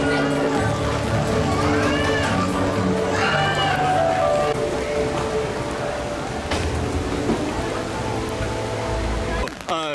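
Steady rain hisses throughout at Disneyland, close and continuous, with voices and other background activity mixed underneath.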